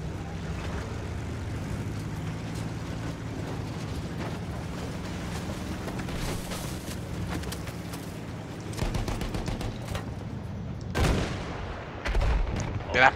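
Explosions and gunfire from the Battlefield 1 campaign: a steady rumble of battle noise, then sharp blasts near the end, loud and close.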